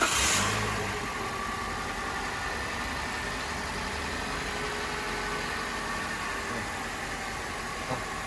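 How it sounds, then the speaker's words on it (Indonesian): A 2015 Toyota Avanza Veloz with a 1.5 L engine idles steadily and evenly from close by, the engine's steady drone constant throughout with a brief louder burst at the start, and no one speaking. "teman-teman bisa dengerin suara mesin yang bagus ya"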